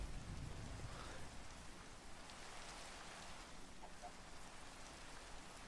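Rain storm in a Minecraft-style video game, a steady, dense hiss of rainfall on surfaces, moderately loud and unbroken, with no voices over it.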